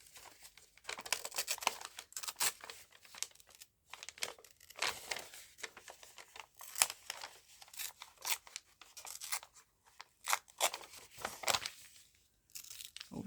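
Crunchy paper being torn and crumpled in short crunchy bursts for a journal craft, close up, with brief pauses between rips.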